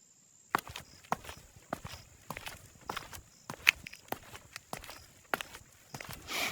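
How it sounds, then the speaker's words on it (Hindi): Footsteps approach as a horror story sound effect in a dark village at night, a steady series of fairly loud, crisp steps at an even walking pace, with a faint high hiss in the background. "तभी अचानक कदमों की आहट सुनाई दी।"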